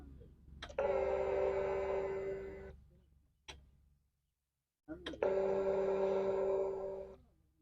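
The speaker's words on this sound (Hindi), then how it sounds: "जैसे ही चाबी को ऑन करेंगे तो हमारा ये जो फ्यूल मोटर है आवाज़ करने लगता है।" A TVS Ntorq BS6 scooter's fuel pump motor whirs steadily after the key is switched on, running in two sustained bursts of a few seconds each with a short click and pause between them, close up.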